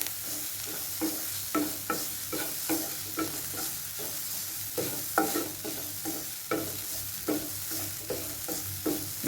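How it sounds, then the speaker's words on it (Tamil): Butter beans being stirred with masala and coconut in a frying pan: a steady run of spoon scrapes and clacks, roughly one or two per second, over a continuous soft sizzle, close and fairly quiet, with no voices. "இதையும் நல்லா மிக்ஸ் பண்ணிக்கலாம்."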